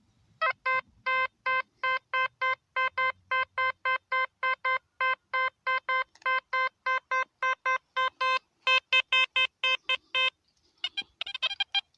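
A metal detector sounds a rapid series of short, identical high beeps in a steady rhythm, loud and close, ending with a brief garbled burst.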